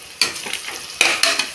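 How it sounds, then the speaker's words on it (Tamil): Squeezed-out soya chunks and other pulao ingredients are stirred and scraped in a hot frying pan, with loud sizzling and repeated bursts of spoon strokes close by. "அதையும் போட்டு நல்லா கிளறிட்டு"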